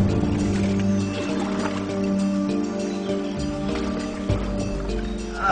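A steady low motor drone hums throughout as a boat moves along a man-made canal at Angkor, with faint splashing and no voices.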